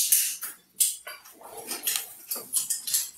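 A dog barks in a quick run of sharp, close, fairly quiet barks, each short and separated by brief gaps, with no talking over them.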